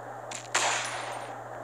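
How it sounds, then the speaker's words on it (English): A single gunshot in a horror video game, a short sharp crack followed by a brief decaying tail over a steady low electrical hum. "Didn't mean to fire off my gun"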